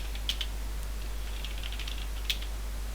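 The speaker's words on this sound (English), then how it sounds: "I'm gonna type in sudo nano cmtab" Light, quiet clicks from typing a command on a computer keyboard, a sparse scatter of soft keystrokes over a low electrical hum, with a couple of slightly sharper taps and no talking.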